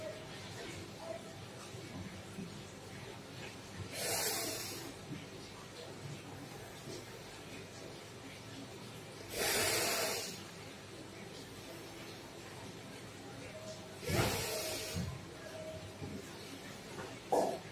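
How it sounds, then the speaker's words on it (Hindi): Three slow hissing inhalations through closed teeth with open lips in sheetkari pranayama breathing, evenly spaced several seconds apart, each a soft airy rush against a quiet background. "चौथा है शीतकारी प्राणायाम इसमें लिप्स खुले रहेंगे और दांत बंद रहेंगे"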